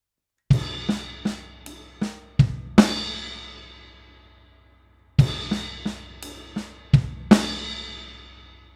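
Drum lick, played close and alone: a burst of quick triplet hits on snare and ride with ringing cymbal decay, a pause, then the same pattern repeated.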